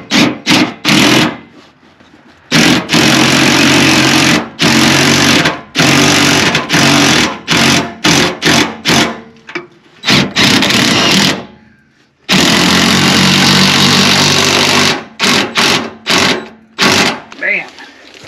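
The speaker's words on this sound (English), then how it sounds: "just going to take my ratchet and my socket and run this back down." A ratchet and socket run a bolt down on the gas tank of an OBS Ford F250 outdoors in snow, with loud, rapid mechanical buzzing bursts broken by short pauses. Someone speaks between the bursts.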